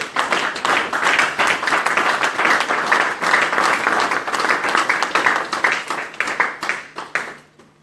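A church congregation breaks into sustained applause for the Lord, a dense, loud wash of many hands clapping together that holds steady for several seconds, then thins and fades out at the end.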